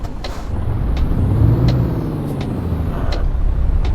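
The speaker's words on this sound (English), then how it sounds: "that was a noisy gear change" Heavy truck in Euro Truck Simulator 2 changing gear, a loud steady engine drone with a brief hiss and clunk as the gear shifts, followed by the engine pulling on.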